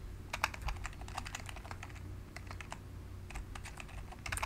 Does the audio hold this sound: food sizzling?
no